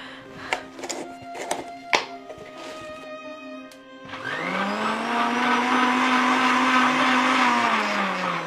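A kitchen blender switches on and whirs loudly and steadily, blending mango with sugar into a shake, after a few clinks and taps of preparation.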